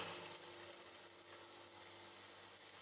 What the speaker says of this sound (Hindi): तो अब धीरे से एक एक करके इनको डालना शुरू करते हैं।